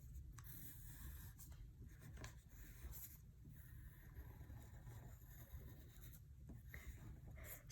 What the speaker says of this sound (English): I'm going to go ahead and trace those.